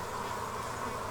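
Africanized honey bees buzzing at a hive, a steady, even drone of many insects held close and unbroken throughout.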